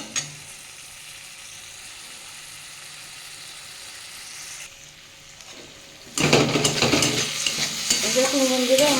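Spice paste with potatoes being stir-fried in a pan for a thin Bengali fish broth with pointed gourd, a quiet hum giving way to a sudden loud sizzle with scraping stirs for the final few seconds.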